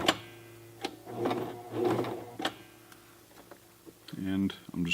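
A Toyota FSG325 sewing machine stitches a jeans hem, a short burst of steady mechanical whirring near the end after quieter handling sounds and talk.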